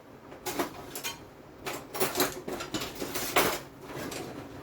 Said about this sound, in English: I'm also going to use my spatula to speed up the process